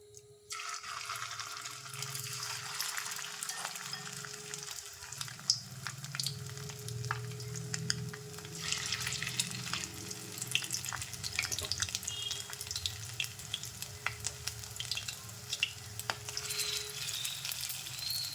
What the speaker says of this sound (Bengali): আমি কড়াইয়ে তেল দিয়েছি সর্ষের তেল দেড়শো গ্রাম তেলটা গরম হয়ে গেছে এবার আমি পকোড়াগুলো